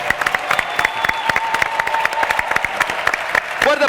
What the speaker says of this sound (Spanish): yo quiero pedir un aplauso para Gabriel por hacer esto posible